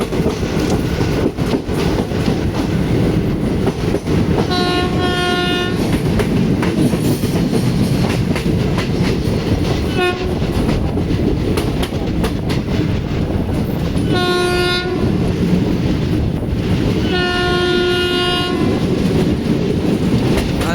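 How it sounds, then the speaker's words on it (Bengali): The Kanchanjunga Express from Sealdah to Bardhaman, running past Dum Dum Junction with loud steady wheel and carriage rumble and several long blasts of its horn. "বন্ধুরা আমাদের ট্রেন এখন দমদম জংশন স্কিপ করছে"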